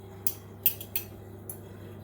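A metal spoon clinks lightly against a glass a few times while stirring salt into water, quick irregular taps over a quiet low hum.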